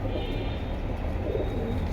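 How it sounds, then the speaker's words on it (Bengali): Low, soft cooing of silver pigeons blended into a dense, rumbling background, continuous and muffled throughout the short stretch. "সিলভার কবুতর"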